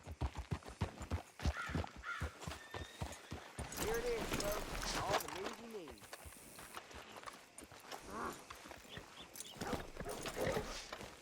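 Horse hooves clip-clop on the ground in Red Dead Redemption 2 at a ranch homestead, a steady rhythmic patter of a walking horse heard under a voice talking, with crows cawing in the background.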